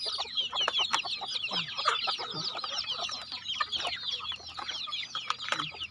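Several Thai fighting chickens cluck and squawk close by on a farm, busy overlapping calls filling the whole stretch with short bursts of clucking, with farm background noise underneath and no talking.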